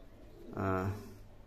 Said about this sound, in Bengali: এই যে দেখেন কোয়েল পাখিগুলো